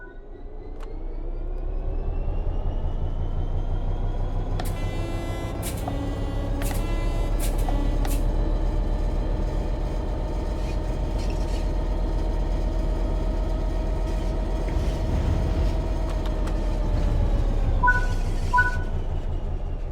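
A locomotive in the Train Sim World 3 game pulls away under throttle, a loud steady low engine drone that gradually builds, with short clanks and warning tones over it.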